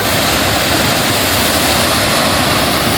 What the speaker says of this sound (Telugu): ఇవి గ్లేషియర్స్ నుంచి వస్తున్నాయి అనుకుంటా వాటర్.